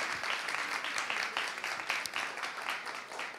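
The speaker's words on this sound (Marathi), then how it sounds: "एकदा जोरदार टाळ्या तिच्यासाठी झाल्या पाहिजेत." Enthusiastic audience applause for a young Bharatanatyam dancer at a live Shri Ram Navami festival performance, a dense, steady wash of clapping that carries evenly from start to finish with no talk over it.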